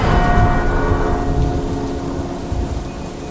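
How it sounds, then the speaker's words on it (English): Heavy rainstorm with rolling thunder, a dense roar of rain under a low rumble that slowly fades over a few seconds. "The winds blew stronger, and lightning shook the high tower."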